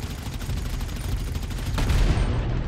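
Gunfire in a GTA 5 roleplay shootout around a cabin, a close, loud stream of rapid shots in quick succession that swells slightly toward the end, with no talking.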